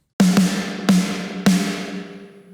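Three punchy, beefy snare drum hits with a ghost note after the first, each ringing out with a full, roomy decay, loud and close.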